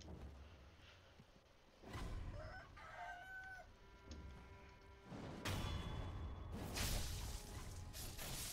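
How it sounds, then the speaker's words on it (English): Roosters crow in the video game Sekiro: Shadows Die Twice, with several drawn-out calls from oversized birds rising over steady ambient game noise and occasional whooshes. "Roosters. I remember there being roosters in here."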